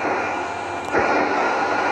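A fighter plane's engine in a video game, a loud, steady roaring drone with a brief surge partway through.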